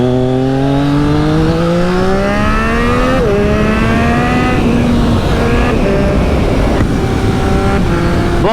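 A 2020 Triumph Street Triple RS motorcycle fitted with an SC Project S1 exhaust revs hard and loud up close, its pitch climbing steadily through the gears with brief dips at shifts, a continuous raspy howl with no talking.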